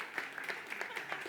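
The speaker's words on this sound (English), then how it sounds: "round of applause for the winner" A conference audience in Athens applauds a quiz winner, a brief, faint patter of scattered claps with irregular sharp peaks, heard at a distance.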